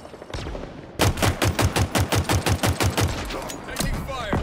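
Rapid automatic gunfire in Halo Infinite, a steady burst of about fourteen evenly spaced loud shots, followed by scattered game sounds.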